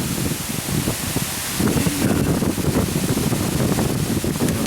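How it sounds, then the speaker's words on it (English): Strong wind buffets the microphone in heavy, continuous gusts, a loud broadband roar that swells louder partway through. "It's windy as hell."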